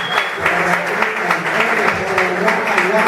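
Audience applause in a theatre hall during an Argentine variety show, a steady dense clapping that runs throughout at moderate loudness with a voice faintly audible underneath.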